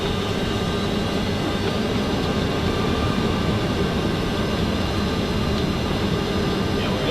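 Steady, loud broadband roar inside a Boeing 757 cockpit as thrust reversers engage after landing, a dense continuous rumble with no breaks.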